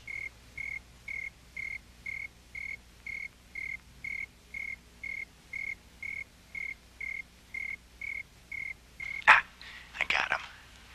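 A snowy tree cricket chirps indoors in an even, regular rhythm of about two pulses per second, fairly faint and close, before a few louder rustling bursts near the end.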